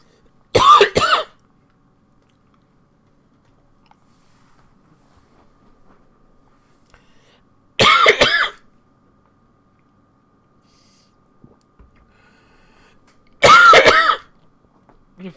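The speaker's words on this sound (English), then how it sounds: "I'm gonna take a cough." One person coughs and clears their throat in three separate harsh bursts after choking on water, each burst close and loud, with near silence between them.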